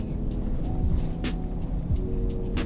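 A 2006 Honda Elysion MPV driven during a handling test, with steady engine and road noise from inside the cabin and brief rising swells and faint squeaks as it moves through the maneuvers.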